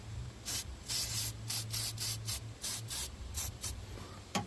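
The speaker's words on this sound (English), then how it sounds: "I'm going to spray battery protectant on there to keep it from corroding." Short bursts of aerosol battery protectant spray hiss in quick succession onto a car battery, close by, with brief pauses between each spritz.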